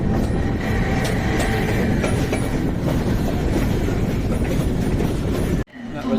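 A passenger train rolls on the approach to Brussels, loud rumbling and rhythmic clacking of wheels on rails heard from inside, cutting off abruptly near the end.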